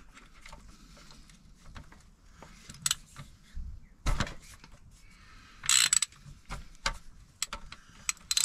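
A socket ratchet on a 19mm bolt of a Nissan 300ZX twin turbo manual transmission clicks in short, irregular bursts, with scattered metallic knocks in a quiet space.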